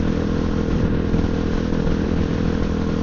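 A Honda XR650L dual-sport motorcycle rides through the Ozarks, its single-cylinder engine droning loud and steady with wind rush throughout, no pauses or talk.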